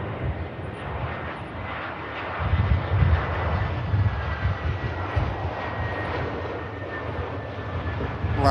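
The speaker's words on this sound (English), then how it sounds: "touchdown from the EasyJet, really nicely done" An EasyJet airliner lands at Manchester Airport, its engine roar rumbling low and steady at a distance, swelling briefly mid-way with touchdown and rollout noise before settling into a continuous drone.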